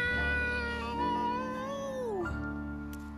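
A person imitates a cat's meow with a long, drawn-out call whose pitch slides downward, heard alone over a steady low sustained tone.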